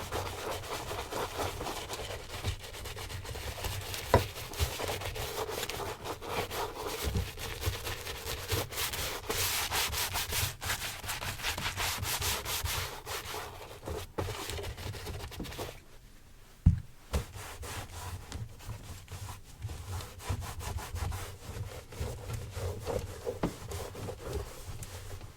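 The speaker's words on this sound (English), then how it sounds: "Give them that good scrub." A brush scrubs Ferragamo loafers during a close-up shoe shine, giving a continuous dry rubbing that goes on for the whole stretch with a brief pause midway. No voices are heard.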